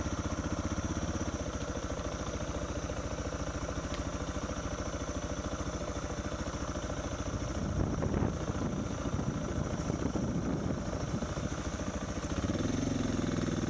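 A vehicle engine chugs and revs while driving through mud at a lakeside camp, a steady close mechanical rumble that grows rougher and louder midway as the throttle is applied.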